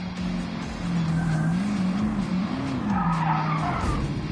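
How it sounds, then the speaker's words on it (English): A race car in Gran Turismo 7 spins out with a long, wavering tire skid over a loud engine drone, the screech bending up and down before it fades. "My car spun out."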